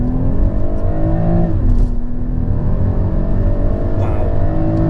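A BMW M340i G20 drives hard through corners, its engine note droning steadily from inside the cabin and shifting pitch as it eases off and picks up again, with tyre and road rumble underneath.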